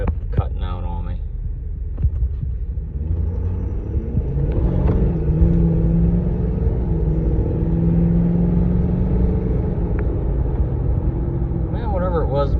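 A Powerstroke diesel truck rumbles steadily and throbs as it launches and accelerates, its engine drone rising and holding for several seconds, with brief voices near the start and end.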